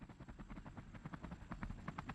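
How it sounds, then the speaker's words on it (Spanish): A helicopter lifts off, its rotor beating in a fast, steady chop under a broad engine roar, heard faintly and at a distance without any voices. "El helicóptero despegó."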